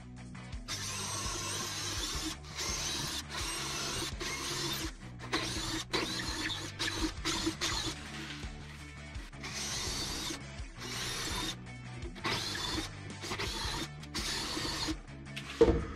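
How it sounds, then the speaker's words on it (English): A cordless drill drills pilot holes in a workshop, with repeated bursts of whirring that start and stop over and over, fairly quiet and with no talk. "I'm going to get my drill out. We'll start piloting those."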